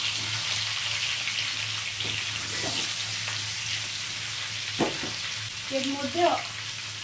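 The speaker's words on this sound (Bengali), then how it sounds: "দিয়ে ভালো করে নাড়াচাড়া করে নিচ্ছি" Mixed vegetables for shukto frying in a pan and being stirred, a steady sizzle with scraping and clinks of the spatula; a voice speaks briefly over it.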